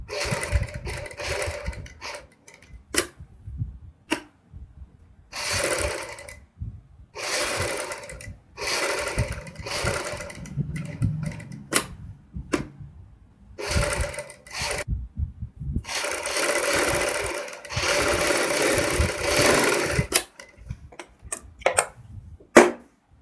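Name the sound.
sewing machine stitching a kurti boat neck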